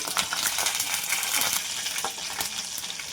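Mustard seeds, cumin and dals splutter in hot oil in a kadai, a traditional tempering for ridge gourd chutney: a steady, dense crackling sizzle with sharp pops throughout, close and fairly loud, with no talking.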